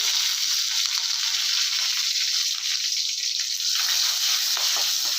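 Mustard seeds and small chillies sizzle in hot oil for a bitter gourd theeyal, a loud, steady hissing fry with faint crackles, close up and without voices.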